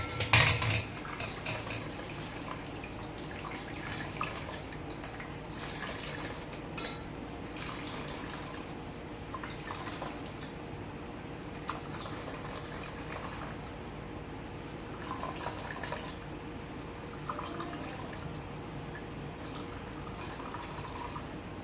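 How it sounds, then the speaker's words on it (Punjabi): Soaked soya chunks squeezed by hand after cold water is added, with wet drips and splashes trickling into a bowl amid faint clinks of dishes over a steady background. "ਠੰਡਾ ਪਾਣੀ ਪਾ ਕੇ ਹੁਣ ਆਪਾਂ ਇਹਨੂੰ ਘੁੱਟ ਕੇ ਨਿਚੋੜ ਦਾਂਗੇ"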